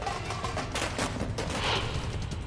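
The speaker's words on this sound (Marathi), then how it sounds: "फटाके फोडून आनंदोत्सव साजरा करण्यात आला" Firecrackers burst at a celebration in Maharashtra in a dense, continuous volley of sharp cracks and pops, loud and close, with no pause between the blasts.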